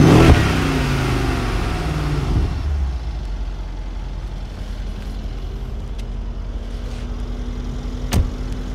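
A 2015 Mercedes-Benz CLS63 S AMG revs loudly once, close by, then settles into a steady, deep idling rumble with a brief click near the end.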